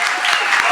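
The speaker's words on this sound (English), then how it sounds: "Let's give a round of applause to the graduates, the honorees tonight." Loud, close applause from an audience honoring graduates at an evening ceremony, dense continuous clapping filling the whole brief moment.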